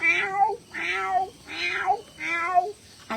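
Voice imitation of a tomcat meowing: four drawn-out, wailing meows in a steady sequence. Each is close and loud, with short pauses between. Performed as mimicry at a state school arts festival competition.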